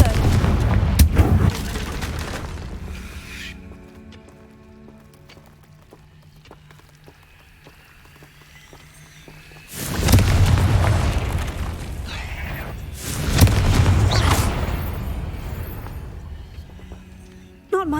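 Confringo fire-blast spells in Hogwarts Legacy erupt in loud booming bursts, with one at the start and two heavy rumbling blasts later, separated by quieter ambient game sound.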